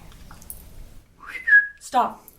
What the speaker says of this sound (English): Going over the brief and we hear whistles.